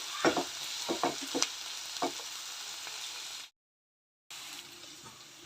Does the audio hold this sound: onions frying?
yes